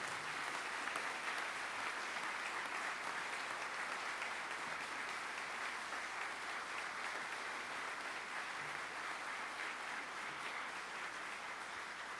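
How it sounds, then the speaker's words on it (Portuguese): Sustained audience applause fills a solemn legislative session honoring religious leaders, a dense, steady clapping that holds at an even level for about twelve seconds with no voices over it. "Uma salva de palmas ao nosso homenageado Padre Cido"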